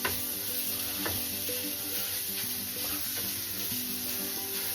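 Sausage meat frying in a pan gives a steady, close sizzle with a constant crackling hiss throughout and no voices.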